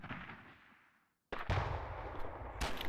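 Springfield rifle shots in the video game America's Army, with a sharp broadband crack after a brief silence and a second loud report near the end, both close and dominant with no talk.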